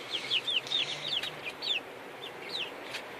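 Young chicks in a brooder chirp and cluck in quick, high repeated peeps, several calls close by over a soft background hum.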